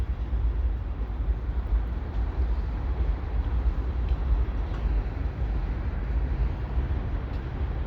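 A slow CPKC manifest freight train led by a Southern Belle ES44AC locomotive departs Dorval in Montreal, giving a steady, dense low rumble of rolling railcars that holds evenly throughout with no voices.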